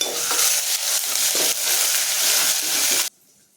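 Close, steady sizzling of onions with ginger-garlic paste frying in a pan, stirred now and then, continuing for about three seconds before cutting off.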